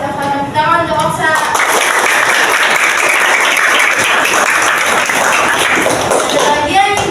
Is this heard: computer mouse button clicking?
no